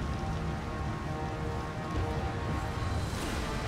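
Rain pouring down in the Tomb Raider: Underworld video game, a dense, even hiss of falling drops that stays steady throughout, with no voices.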